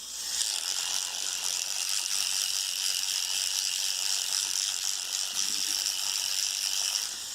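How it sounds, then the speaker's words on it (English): A toothbrush scrubs teeth in a steady, continuous hiss-and-rasp that carries on unbroken and close for the whole stretch, with no talking over it. "why I'm brushing my teeth."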